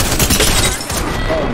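Rapid gunfire from weapons in the Apex Legends Season 13 battle royale game, dense and loud throughout, with overlapping shots and a brief dip near the middle.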